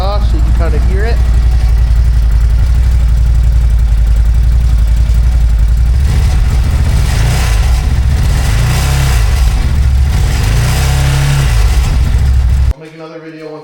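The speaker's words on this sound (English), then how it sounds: "I just wanted to do a little exhaust test before I swap the exhaust so you can kind of hear it." A CFMoto Uforce 1000XL side-by-side on its stock exhaust drones loud and close with a steady low engine note, the pitch climbing and dipping through several revs before cutting off abruptly near the end.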